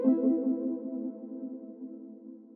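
Synth arpeggio run through an Echo Boy delay with the lows cut, a steady sustained tonal pattern with layered harmonics holding for a few seconds, clear and alone with no talk.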